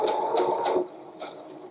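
A domestic sewing machine stitches reinforcement stitches on quilting fabric, a steady close whirring run that stops abruptly partway through, followed by quieter faint mechanical clicks.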